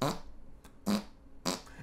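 Three separate fart sound effects, each short and wet, spaced about half a second apart in an otherwise quiet stretch.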